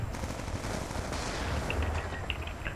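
Rapid automatic gunfire from a gun in Black Ops 2 multiplayer, a dense continuous rattle of shots running through the whole stretch with some sharper bursts near the end, loud and unaccompanied by speech.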